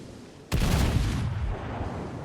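A single heavy boom from the Warspite battleship's main guns in World of Warships, sudden and loud, followed by a long rumbling decay.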